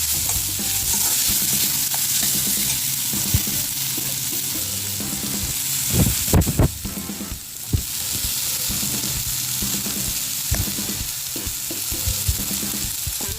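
A spoon scrapes and stirs through a sizzling pan of frying bread snack mixture as garam masala is mixed in, with steady frying hiss throughout and a few louder clattering scrapes midway.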